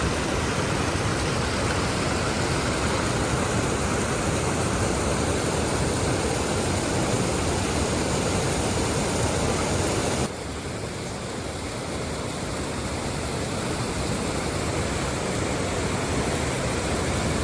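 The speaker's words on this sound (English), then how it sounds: "So beautiful, the waterfalls." Steady, loud broadband rush of waterfalls at a lake, continuous and even throughout, with a slight drop in level partway through and no voices.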